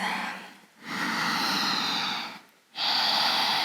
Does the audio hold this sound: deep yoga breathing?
yes